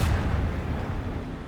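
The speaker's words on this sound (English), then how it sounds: "So we actually deploy torpedoes right now." Starship torpedo and cannon fire in the video game Rogue Trader, a loud, continuous rumbling barrage of booming blasts that fades slightly over a short burst, with no talk.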